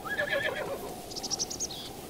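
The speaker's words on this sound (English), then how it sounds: "I know horses like to kick" A horse in a video game whinnies in a short, high, wavering call, then a second brighter squeal follows, over a steady low background rumble.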